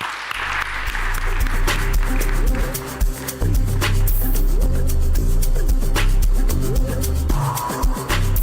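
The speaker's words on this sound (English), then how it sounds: "Round of applause." A conference audience claps loudly and continuously to welcome the Republic of Congo's Director of Forests at an event on Africa's forest heritage, a dense crowd applause with many overlapping hands that holds strong throughout.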